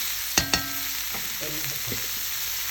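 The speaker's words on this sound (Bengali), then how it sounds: "লবণটা দিয়ে ভালোভাবে নাড়া হয়ে যাচ্ছে।" Loitta shutki bharta, mashed dried Bombay duck, is stirred with salt. A couple of sharp scrapes sound first, then soft scraping and light sizzling over a faint hiss, close and quiet, with no voices.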